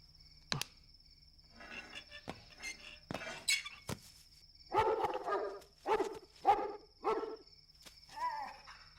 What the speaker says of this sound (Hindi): किसे देखकर भौंक रहे हो?